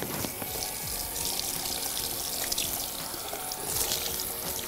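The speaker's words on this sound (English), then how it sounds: "Turn the tap off, and then we're just going to go over it again." Tap water running steadily into a salon basin while hair is rinsed, a continuous close splashing hiss with small irregular spatters.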